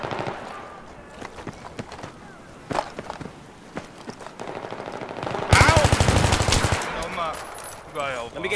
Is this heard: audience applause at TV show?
no